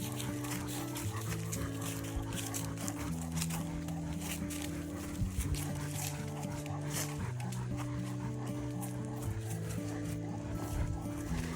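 A dog on a hike through a state forest and sportsman's club land gives drawn-out whining and whimpering cries over outdoor rustle, with faint human sounds in the background.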